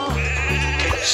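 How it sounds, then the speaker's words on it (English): A sheep bleats once, a loud, close, wavering baa that holds for about a second with no other sounds around it. "Some sheep have wandered off from the farm."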